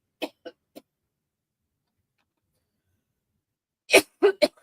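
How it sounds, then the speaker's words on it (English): Three short coughs in quick succession, a long silence, then three louder, closer coughs bunched together near the end. "I still think this cough that I have every once in a while"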